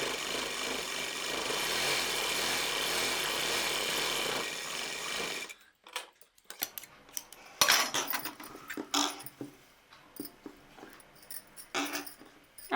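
A sewing machine running a continuous double stitch on a frill frock, a steady dense whirring for about five seconds, then scattered clicks and fabric handling close by.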